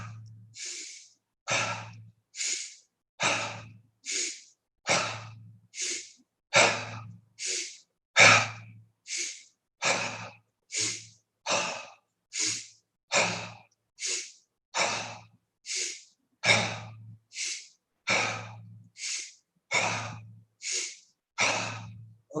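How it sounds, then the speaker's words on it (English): Deep breathing in and out, repeated rhythmically about two dozen times as a mindfulness breathing exercise, each breath a loud, close, airy rush with short gaps between, and no talking. "Breathe in and then breathe out."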